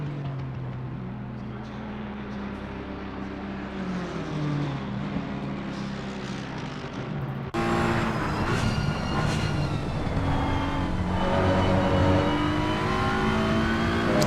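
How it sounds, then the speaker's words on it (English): Race car engines roar and rev continuously around the Silverstone circuit in the Assetto Corsa Competizione racing game, several cars layered with shifting pitches, the sound growing louder and denser partway through, with no talking. "We can all enjoy the noise of all the engines."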